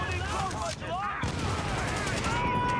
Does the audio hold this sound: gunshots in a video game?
yes